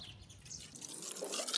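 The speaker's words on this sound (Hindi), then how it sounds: "1 कप पानी बर्तन में डालें और 1 कप दूध भी शामिल कर ले" Water and milk pour into a pot while bread dough is being made at home. The splash is short and soft, with a brief burble of liquid and no talk over it.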